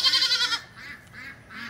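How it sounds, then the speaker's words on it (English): A goat bleats in a goat pen, one loud drawn-out bleat followed by two fainter, shorter calls, heard close with no talking. "She's such a pretty goat."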